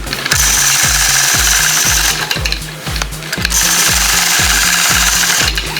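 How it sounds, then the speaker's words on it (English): Sewing machine quilting point-to-point curves along a concave quilting ruler, running as a loud, steady, rapid needle stitching rhythm with a brief slower stretch in the middle, and no voices. "now I'm going to point or quilt point-to-point curves coming right back across"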